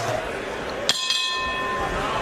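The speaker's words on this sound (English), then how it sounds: "The bell in round number 2." A boxing bell signals round 2 at a bantamweight title fight, giving two quick metallic strikes with a ringing tone that lingers over crowd noise and commentary.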